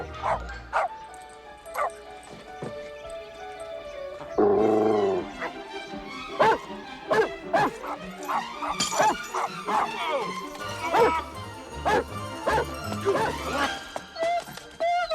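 A small young dog barks and yips repeatedly in quick bursts, fairly close, with a brief clatter partway through and some background movement and voices.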